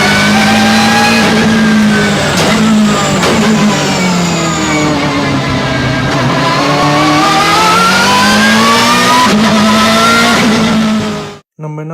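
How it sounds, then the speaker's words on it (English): A 2004 BMW M3 E46 GTR race car with straight-cut gears, its engine roaring loud and close with a rising and falling howl and a sharp gear whine, cutting off abruptly near the end. "Number 9, 2004 BMW M3 E46 GTR."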